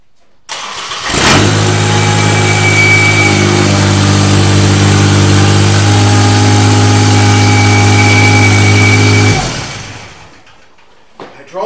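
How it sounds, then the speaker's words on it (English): A Ventrac compact tractor engine starts and runs, holding a loud, steady low drone close by for several seconds as it drives up onto ramps, then shuts off. "First, we'll drive up onto my ramps, raise this outer wheel, and we'll get started."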